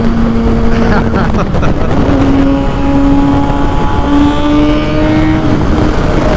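A motorcycle engine runs steadily nearby, its tone rising and settling through a few revs under constant road and wind noise, with a voice briefly audible.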